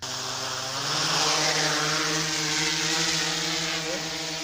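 Propellers of a toy drone spin up outdoors into a loud, steady motorized whine that steps up in pitch after about a second and holds there, alone with no talking.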